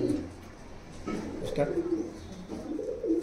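Pigeons at a bird seller's coo in soft, low, repeated phrases close by, while people talk over them.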